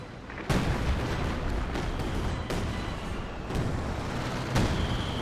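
Smoke rounds firing in the Company of Heroes 2 video game give a series of muffled booming thumps, four or five spaced launches over a constant rumbling battlefield background, with no talking.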